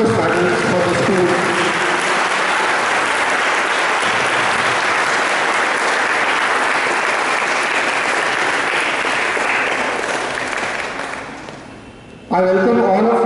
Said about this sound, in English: please give a big round of applause for those achievers who have won numerous medals for the school